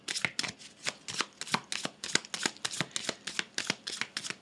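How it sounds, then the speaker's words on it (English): A deck of Egyptian gods oracle cards being shuffled, with a steady run of quick riffling flicks close by and fairly quiet, no voices. "we shall just get one card from the Egyptian gods oracle"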